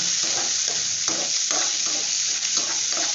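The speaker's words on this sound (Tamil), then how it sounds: "வதங்கட்டும்" Green or dried chillies sautéing in a pan for poriyal, a steady close sizzle with faint stirring scrapes throughout.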